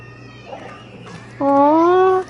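A cat in Destiny 2 The Final Shape lets out one loud, drawn-out meow with a rising pitch near the end, following a quieter stretch of background ambience.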